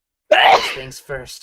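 A single sudden sneeze bursts out during a live gameplay stream, fairly close and sharp, followed by a voice talking.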